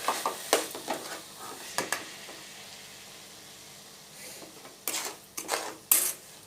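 Bottle gourd halwa with melting sugar is stirred in a pan over low heat, with a spoon scraping in uneven bursts over a soft, continuous sizzle and a quieter stretch in the middle.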